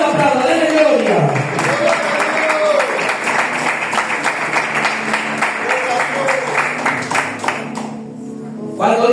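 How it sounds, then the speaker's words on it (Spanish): Church congregation clapping together, loud rhythmic applause under a voice speaking over it, fading near the end. "Aplauda si le va a aplaudir, denle gloria, no solo aplauda, denle gloria."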